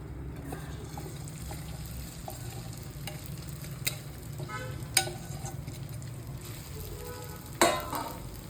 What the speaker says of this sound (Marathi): तर तेल थोडंसं गरम झालं आहे. यात मी आता साबुदाणा टाकून घेते.